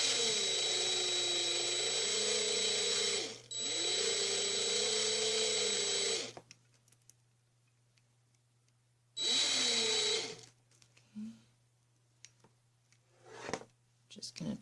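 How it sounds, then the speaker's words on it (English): A power drill whirs steadily in reverse while winding Keshe Magrav coils, running loud for about six seconds with a brief dip, pausing, then spinning again for a second burst, followed by quieter handling noises. "So we haven't changed, whoops, we haven't changed our drill button."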